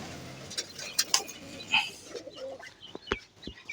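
Pigeons kept for flying coo softly and flutter around while they are fed paddy, millet and chickpeas, with faint chirps and scattered taps. A person talks quietly in the background.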